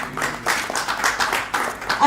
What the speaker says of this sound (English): And then of course we have Geetanjali Bhala, please give her a big round of applause, ladies and gentlemen